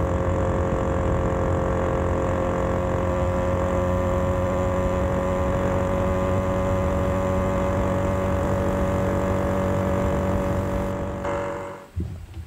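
A motorized bicycle engine drones steadily at a high, even pitch while riding along a road during warm-up near 30 mph, with wind rush, then the tone drops and cuts out abruptly at the end.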